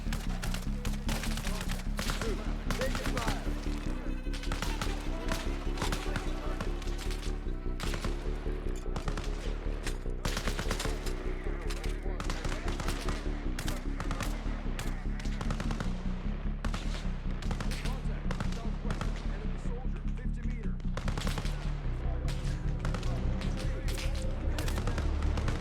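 Rapid automatic gunfire from a video game, a near-continuous rattle of dense, sharp shots firing in long bursts over steady background music and game noise.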